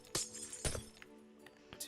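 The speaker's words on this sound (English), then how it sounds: "You just broke the glass" Glass panes shattering in Minecraft: two sharp breaking crashes close together, followed by a softer third clink, with quiet game sounds in between.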